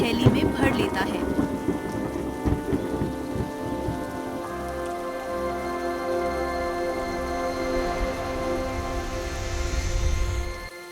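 Steady heavy rain beats down in a cartoon thunderstorm, with a crackling thunder rumble at the start that rolls on under the constant downpour; no voices.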